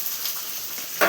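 Oil sizzling in a pan as cinnamon, cloves and coriander are sautéed for an egg curry, a steady close hiss with a louder burst at the end.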